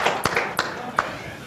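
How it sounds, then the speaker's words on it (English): A few scattered, distinct hand claps ring out close by for a winning team, sparse rather than a full round of applause, with some voices underneath. "So let's give them a round of applause"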